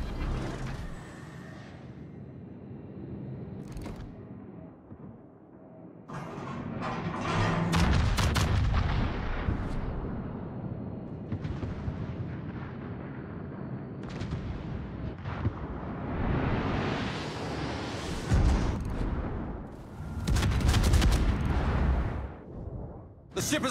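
Tier 10 battleship USS Vermont's main guns firing in World of Warships, heavy booming salvos and rumbling blasts repeating across the stretch amid mechanical creaks, with in-game voice callouts.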